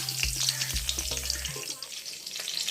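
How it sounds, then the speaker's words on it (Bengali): Dry red chilies fry in hot oil with black cumin and garlic, giving a close, steady crackling sizzle; a low voice murmurs under it at first. "দাঁড়াও, আমি কটা শুকনো লঙ্কা দিয়ে দিলাম। এটাকে আমি ভালো করে ভেজে নেওয়ার পরে"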